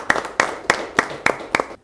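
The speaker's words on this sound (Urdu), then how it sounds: "آپ کو بھی جیرلڈ خوش آمدید اور ویلکم کرتے ہیں زوردار تالیوں میں" Hands clap in a steady, even rhythm, about six crisp claps spaced a third of a second apart, as a guest is welcomed at a church programme. The claps sound sparse rather than like a full audience.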